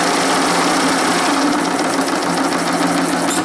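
A Stuart D10 model steam engine in a live-steam boat runs in reverse with a loud, steady, rapid mechanical whir and chatter, close and continuous throughout, with no talking.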